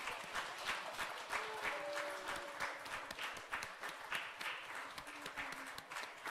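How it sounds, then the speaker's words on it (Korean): A church congregation applauds in celebration during a worship service, a steady crowd of many hands clapping throughout, moderately distant, with faint speech underneath. "큰 박수로 축하하겠습니다"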